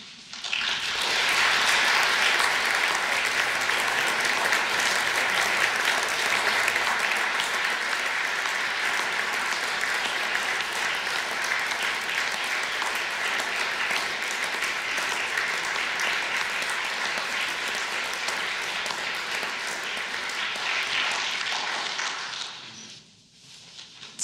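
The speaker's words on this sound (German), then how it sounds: "für die wir ihm nun alle mit einem langen, kräftigen Applaus danken" Long, strong applause from a lecture audience at an academic event on AI and responsibility, a sustained even roar of many hands lasting over twenty seconds before cutting off abruptly.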